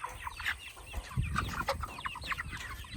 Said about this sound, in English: So these are our meat birds.